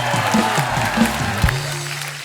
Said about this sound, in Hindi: जोरदार तालियां हो जाए इन सब स्टार्स के लिए।